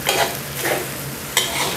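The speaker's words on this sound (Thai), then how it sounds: "ผัดสักครู่นึงก่อนนะครับให้คะน้าเริ่มสลดก่อนครับ" Kale being stir-fried in a wok for Thai-style soy sauce fried rice: continuous close, loud sizzling and frying with scraping stir strokes at intervals, no voices.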